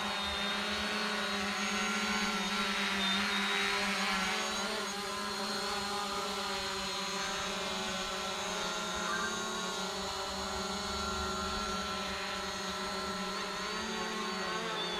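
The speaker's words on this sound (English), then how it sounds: "Kind of a rough takeoff there, but it's flying. Zino Pro Plus, lost and found drone." A Zino Pro Plus drone hovers after a rough takeoff, its steady high propeller whine and layered motor tones droning continuously and fairly close, with no talk over it.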